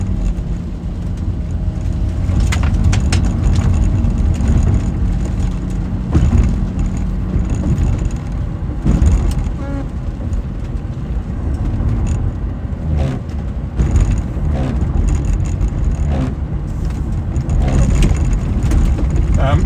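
1993 Jaguar XJS 6.0 V12 coupe running at idle, a steady low engine hum that continues for about twenty seconds, with scattered clicks and handling noises over it.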